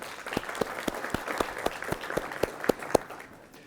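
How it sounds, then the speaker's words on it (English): Keynote audience applause comes across faint and distant, with sharp separate claps in a loose, uneven rhythm over a soft room murmur before it stops. "let's begin by first giving ourselves a round of applause for continuing our journey together"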